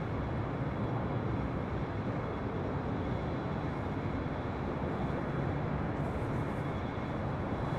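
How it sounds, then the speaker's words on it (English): A Southwest Airlines Boeing 737-700 taking off from runway 4 left at LAX, a continuous loud broadband jet roar that holds steady throughout with no talking. "This is Southwest Airlines flight 2029, 737-700."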